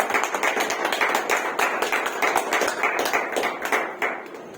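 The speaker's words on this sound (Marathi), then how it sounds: "आपण सर्वांनी मिळून त्यांच्या टाळ्या वाजवून जोरदार टाळ्या करूया" A crowd claps steadily and loudly with dense, continuous applause that fades slightly toward the end; no talking.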